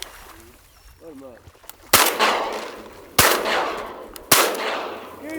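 Three loud, sharp shotgun blasts ring out at even intervals, each trailing off into a lingering echo, while hunters go after mallards in a flooded corn field; there is faint talk and duck calling between the shots.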